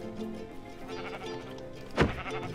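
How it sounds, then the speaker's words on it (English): A single sheep bleat in Minecraft rings out near the end, short and fairly loud, over quiet game background sound. "I'm gonna go kill this sheep."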